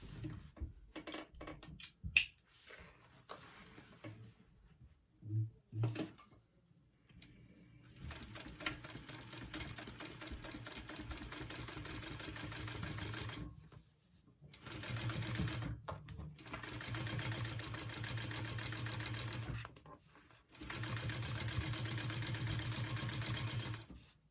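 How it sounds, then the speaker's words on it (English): A sewing machine top stitching a seam on a tote bag runs in several long steady buzzing bursts, separated by pauses with small clicks and handling noises, close and moderately loud without talk. "I'm gonna top stitch that down"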